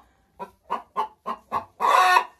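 A hen, a cross with a Marans, clucks in five short, evenly spaced bursts after laying an egg, then lets out a longer, louder squawk, close by with no talking.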